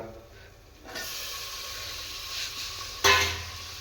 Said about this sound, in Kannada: ಟೊಮೊಟೊ ಹಣ್ಣು ತಗೊಂಡು ಫ್ರೈ ಮಾಡ್ಕೊಳೋಣ.